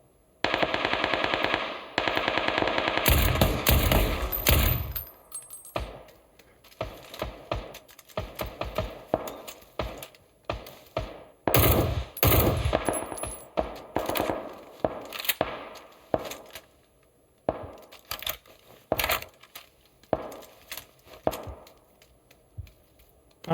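Automatic gunfire in the battle royale game PUBG, loud rapid bursts followed by scattered single shots and clattering hits, close and sharp with short quiet gaps between volleys.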